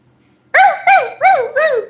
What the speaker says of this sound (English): He can bark all he wants.